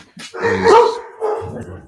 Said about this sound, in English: my dogs are about to go off